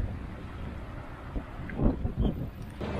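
Strong wind outdoors in a city buffets the microphone, producing low rumbling gusts that swell and thump irregularly, with two heavier blasts near the end and no voices.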